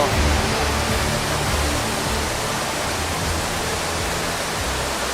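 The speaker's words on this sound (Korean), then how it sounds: "여기가 다탄나 폭포거든요." Datanla waterfall in Vietnam roars with dense, steady rushing water swollen after rain, a loud broadband wash filling the scene without pause.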